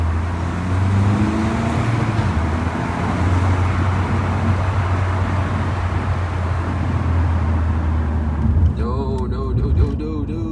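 A 180 hp VW Scirocco roars continuously through a tunnel, its deep, booming exhaust drone echoing off the walls, building steadily and then fading near the end.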